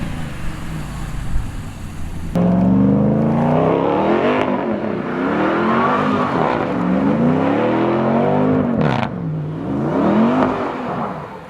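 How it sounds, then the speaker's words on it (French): A Ram TRX pickup's engine rumbles through a free-flow exhaust, loud and close, with deep revs rising and falling repeatedly and a gravelly burble between pulls. "Puis on peut entendre vraiment le son du TRX."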